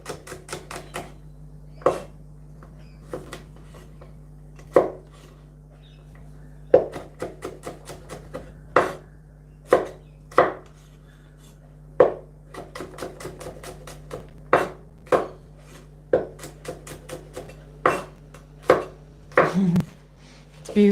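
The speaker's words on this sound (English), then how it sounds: "You have such a percussive way of cutting" A knife chops food on a board in brisk, percussive bursts of sharp taps, clustered runs separated by short pauses, close and distinct, with occasional voices in the background.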